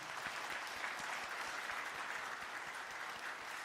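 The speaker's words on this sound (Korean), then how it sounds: "한번 인사하고 들어갈 때 박수 한번 해주시기 바랍니다" Church congregation applauding during a Sunday morning service in Daegu, South Korea, a dense, continuous wash of many hands clapping at moderate volume, heard from a distance with no talking over it.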